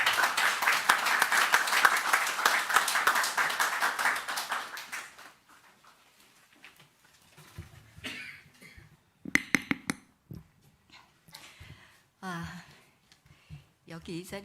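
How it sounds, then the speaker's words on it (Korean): Warm applause from a church congregation welcoming the pastor at a thanksgiving service, dense steady clapping for several seconds that fades out, followed by scattered sounds and a voice speaking. "목사님 나오실 때 뜨거운 박수로 맞아주시기 바랍니다"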